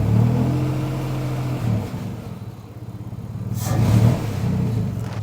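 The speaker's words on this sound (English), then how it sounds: "I'm gonna rev it a little." A Land Rover Freelander engine that has broken down idles with a low rumble, then revs up briefly before settling back to a steady idle.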